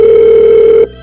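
A single telephone tone in a radio drama, one steady electronic note that holds for under a second and then cuts off cleanly.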